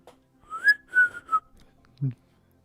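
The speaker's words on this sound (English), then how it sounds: "Just looking off in a different direction, whistling." A person whistles a short, lazy tune of three clear rising and held notes, near and isolated in quiet surroundings, followed by a brief low sound.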